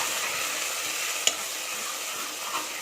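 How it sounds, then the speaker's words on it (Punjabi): Ginger garlic paste frying in a pan for an aloo matar curry, giving a steady bright sizzle throughout with a single sharp tick from a stirring spoon near the middle and no voices. "ਜਦੋਂ ਅਦਰਕ ਲਸਣ ਦਾ ਪੇਸਟ ਭੁੰਨਿਆ ਜਾਵੇ"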